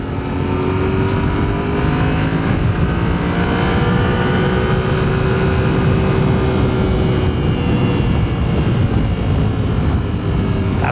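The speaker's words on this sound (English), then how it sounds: "Third gear, this is the CP2, I guess. This is the same engine as I have." A Yamaha motorcycle with the CP2 parallel-twin engine rides in third gear, giving a loud, steady engine drone with a smooth, held pitch and wind rush throughout, close to the rider.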